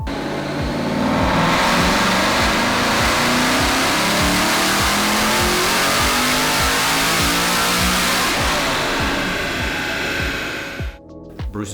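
A supercharged Aston Martin V8 Vantage revs hard on a dyno, a loud sustained engine roar that climbs steadily for about ten seconds, then cuts off abruptly.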